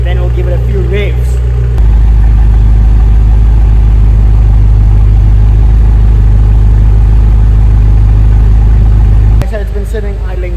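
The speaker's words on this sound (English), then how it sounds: "So it's been sitting idling for about 5 minutes," A BMW M6 with a twin-turbo V8 and custom stainless steel downpipes idles with a loud, steady, deep rumble for several seconds, the low drone holding constant, with brief bursts of someone talking at the start and end.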